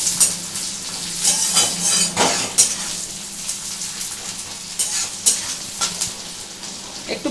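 Onions browning in a pan with a little sugar sizzle steadily at close range, broken by occasional scrapes and light knocks of a spatula against the pan, with no voices.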